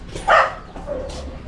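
A stray askal dog in a yard where cobras turn up gives one short, sharp bark up close, with a fainter yip following a moment later.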